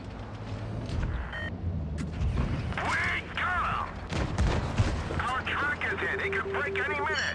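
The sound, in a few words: tank gun shots, from video game World of Tanks Blitz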